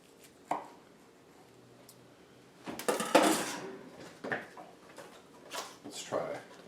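A knife slices through a tuna steak on a cutting board with a few short, separate cuts and taps between quiet gaps, then a louder run of sawing and scraping, heard close with some speech.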